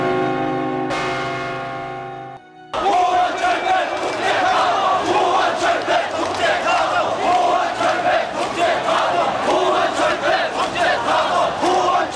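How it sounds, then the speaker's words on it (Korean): A protest crowd pours into the streets during Korea's June 1987 democratic uprising, chanting loudly in a rhythmic, pulsing mass. A sustained bell-like ringing tone comes first, then cuts off abruptly before the chanting begins. "거리에 쏟아져 나온 시위대, 경적을 울리는 차량, 박수를 치며 시위대에 호응하는 사람들."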